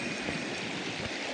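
Stream water flows and rushes softly in the Konkan countryside, a steady faint wash of sound with no voices.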